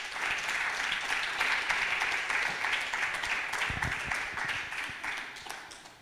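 A crowd at a poetry slam featuring election candidates gives a contestant sustained, dense applause, many hands clapping steadily at fairly close range before tapering slightly toward the end.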